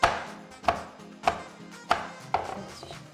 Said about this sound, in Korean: 고추도 아스다스 썰어주세요.